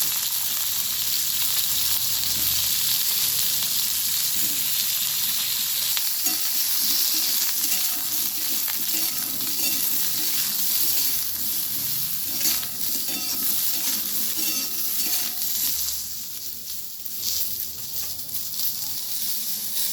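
Star fruit pieces fry in oil with panch phoron and dried chili tempering for a chutney, a continuous loud sizzle and hiss with occasional stirring scrapes throughout, no speech.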